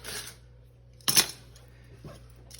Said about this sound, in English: Okay, so grab some spoons.